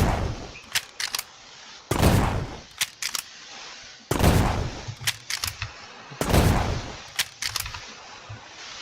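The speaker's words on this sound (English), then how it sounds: "Next, the M16 carbine. Rifle rounds again." M16 carbine firing rifle rounds in the Minecraft Create: Love And War mod, with loud sharp shots in several bursts and single cracks separated by short silent gaps.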